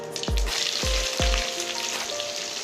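Onions frying in oil for an Odia-style fish dish, a dense, steady sizzle close to the pan, punctuated by a few low thumps from stirring, with no voices.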